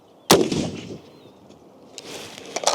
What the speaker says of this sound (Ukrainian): Зараз буду стріляти кулеметним набоєм по російській плиті